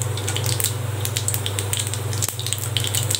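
Whole spices including cardamom, cinnamon and star anise fry in hot oil for mutton chukka, a steady close sizzle with small crackling pops over a constant low hum.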